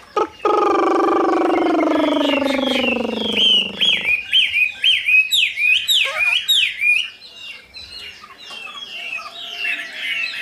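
A large, partly moulted caged songbird bred for tail-fanning contests sings loudly and close, starting with a long drawn-out call, then a rapid, varied run of sharp whistled chirps and trills, with no talk.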